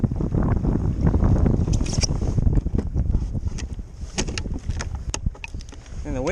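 Wind gusts buffet the microphone on a kayak at sea off Seward, Alaska, during solo halibut and rockfish fishing, a steady rumbling roar with scattered water splashes and knocks close by.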